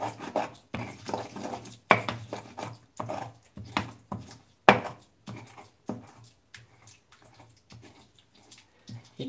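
Guacamole is worked in a stone molcajete: a rhythmic series of close, gritty pounding and grinding strokes, roughly two per second, irregular in strength, with brief pauses between bursts.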